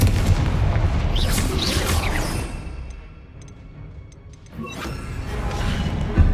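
Spell blasts from the Confringo blasting curse in Hogwarts Legacy boom out in a heavy burst, then fade to sparse ticking before another rumbling explosion swells near the end.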